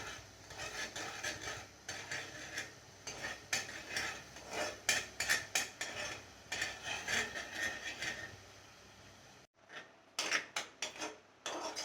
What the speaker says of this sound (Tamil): இதுக்கு நல்லா அப்படி கிண்டிகிட்டே இருங்க